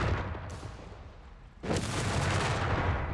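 Heavy mortar fire in Company of Heroes 3, booming blasts over a constant battlefield rumble, with a sharp loud impact at the start and another strong burst midway that sustains to the end.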